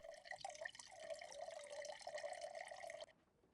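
Running tap water in the Tinybop Skyscrapers kids' app as a character washes hands at a bathroom sink, a steady trickling stream with light splashes that runs for about three seconds and then cuts off abruptly.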